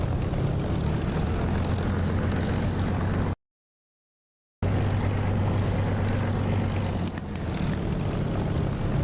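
A simulated Spitfire's piston engine in the DCS flight simulator drones loudly and steadily, with a deep propeller hum. The sound cuts out briefly near the middle, then returns at the same level.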